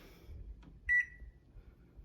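A kitchen oven timer gives a single short, clear electronic beep, close by in an otherwise quiet room with a faint background hum.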